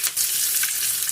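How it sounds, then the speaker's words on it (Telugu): Curry leaves tempering in hot oil for buttermilk curry (majjiga pulusu), giving a steady, close, bright sizzle and crackle with no voices. "కరివేపాకు లైట్గా వేగేంత వరకు మనం ఉంచుకోవాలి"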